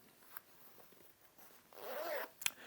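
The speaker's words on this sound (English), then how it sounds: "instead of a diagonal zip, we've got a cross zip, so a straight zip here." The straight cross zip on a pocket of RAB outdoor trousers is pulled with a short, close rasping slide, ending in a sharp click, after quiet rustling of fabric.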